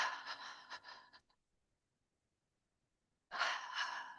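A long breathy exhale with a ha sound during a qigong breathing exercise, followed by a quiet pause and then a second audible breath, close and soft.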